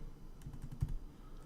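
Soft typing on a computer keyboard, a quick run of light clicks close by with one slightly sharper tap partway through, over a quiet background.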